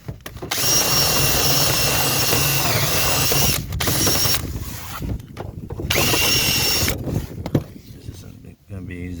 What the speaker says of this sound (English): I'm going to use a drill to try and sand it out